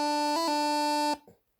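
A bagpipe chanter sounds a steady reedy D with a G grace note then an E grace note flicking quickly near the start, then cuts off abruptly after about a second.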